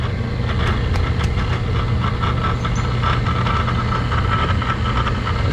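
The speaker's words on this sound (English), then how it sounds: "Hear the pump? Oh, that sounds terrible." A commercial LAARS Pennant boiler pump running badly and not spinning, a steady dense mechanical hum and rattling drone with faint ticking, continuous and close.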